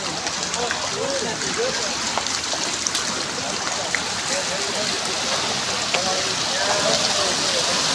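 Water flows across a road at night on the Girnar Parikrama pilgrimage route near Junagadh, Gujarat, making a continuous, close, rushing and splashing wash with scattered small drips.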